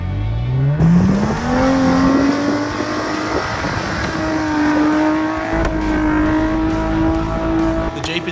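A 4WD engine revving hard in soft sand at Robe, the pitch climbing quickly then holding as the vehicle bogs down, with loud sustained strain and some rough mechanical clatter, close by.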